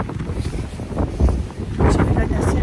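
Outdoor wind buffets the microphone in a steady, heavy low rumble that swells and eases, loud and close, with no clear words.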